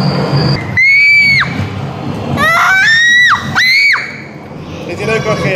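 Children screaming on a fairground ride, several high shrill screams in short bursts rising and falling, loud and close, with crowd noise around them.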